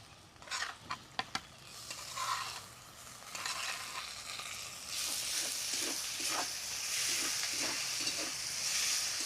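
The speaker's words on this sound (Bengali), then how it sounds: "কাঁচা লঙ্কা কুচি আদাটাকে ভালো করে ভেজে নিতে হবে" Chopped green chilli and ginger fry in a pan, with a few sharp clatters and spatula scrapes at first, then a steadily louder, brighter sizzle under repeated stirring strokes.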